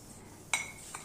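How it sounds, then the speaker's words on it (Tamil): A miniature iron paniyaram pan set down on a toy stove, making one short, bright metallic clink followed by a fainter tap, close and quiet with no talk. "ஒரு பணியார சட்டியை அடுப்பில் வச்சு காமிக்கிறேன்."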